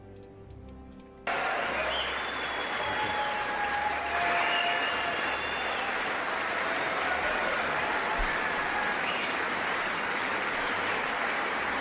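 Sustained applause from an audience, dense and steady clapping that starts abruptly after a brief moment of other sound and continues at an even level throughout.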